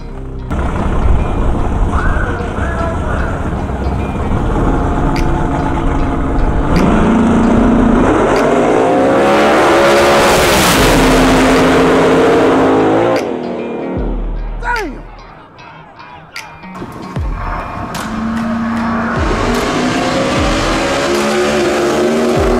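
Race cars roaring past on a drag strip during a close heat, loud engine drone building and sweeping by, a high-revving pass peaking midway, then a brief lull before engines return, with people talking over the noise.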